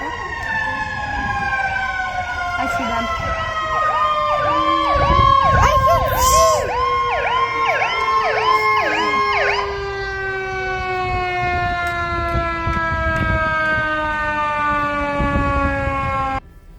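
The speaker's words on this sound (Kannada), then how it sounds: "ಕೇವಲ 3-4 ನಿಮಿಷದಲ್ಲೇ ಫೈರ್ ಟ್ರಕ್ ಹಾಗೂ ಫೈರ್ ಇಂಜಿನ್ ಹಾಜರು" A loud fire truck siren wails close by during a fire drill in the USA, rapid yelping warbles giving way to a long falling tone, with engine rumble beneath.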